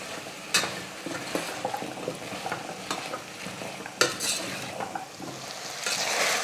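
Chopped vegetables, including eggplant, sauté in oil in a pan for sambar rice, giving a steady, close sizzle broken up by the scrape and clatter of a stirring spoon against the pan.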